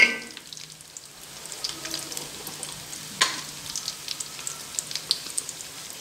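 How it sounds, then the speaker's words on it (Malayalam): Coconut pieces fry in a pan for a Kerala-style soya chicken roast, a soft steady sizzle with scattered crackles and a few stirring scrapes, close and alone without voices. "തേങ്ങാക്കൊത്ത് നമുക്ക് ഒരു ചെറിയൊരു ബ്രൗൺ നിറമാകുന്നത് വരെ ഇങ്ങനെ വറുക്കണം"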